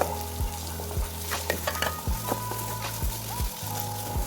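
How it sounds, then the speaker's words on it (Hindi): Capsicum slices and carrots being stir-fried with chicken, a spatula scraping the pan about every half second in a steady rhythm over a constant close sizzle, with no one speaking. "शिमला मिर्च को मैं अच्छी तरह से और गाजर को गोश्त में अच्छी तरह से मिक्स कर लूँगा"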